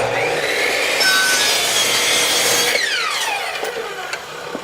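A handsaw cuts through wooden base trim, making continuous raspy strokes that stay loud and steady, then ease off near the end of the cut. The sawing is close and there is no talking.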